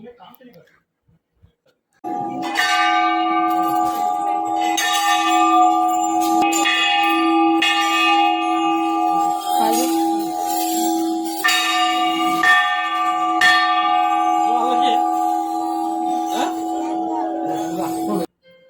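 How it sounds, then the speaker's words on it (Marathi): Many temple bells ringing together at a busy Ganesh temple in Nashik at night, a steady, loud, continuous clanging wash of overlapping metallic tones that starts abruptly after a short quiet moment and carries on to the end. "हे बघा, पूर्ण घंट्या एवढ्या लोकांचे नवस"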